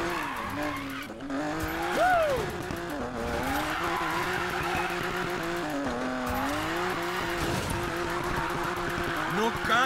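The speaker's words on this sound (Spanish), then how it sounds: "No cagues este derrape" Car drifting in the Need for Speed Payback racing game, with sliding tires squealing in long wavering tones over a steady engine drone; a voice talks over the drift at times.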